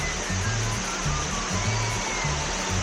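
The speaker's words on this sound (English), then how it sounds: "It's a hot springs stream and waterfall." Kamuiwaka hot spring stream and waterfall on the Shiretoko Peninsula, a steady, loud, broadband rush of falling and flowing water, close and continuous with no talk.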